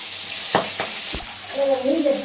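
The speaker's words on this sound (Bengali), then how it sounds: "মাছটা এখন ভালোভাবে একটু ভেজে নেই।" Fish fries in oil in a pan with a steady crackling sizzle, punctuated by a few sharp scrapes of a spatula, close and loud.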